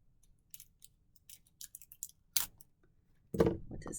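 A pack of plastic waterproof pirate-themed playing cards is torn open, with a few soft crinkling rustles followed by a louder ripping and crackling of the wrapper near the end.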